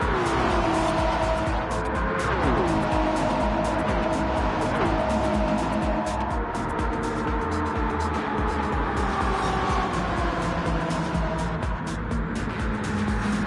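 Race cars, including Porsche, Ford, Ferrari, BMW and AMG entries, in a sprint race at Daytona: engines roar and shift pitch as cars pass close by, with occasional tire squeal over a constant loud engine bed.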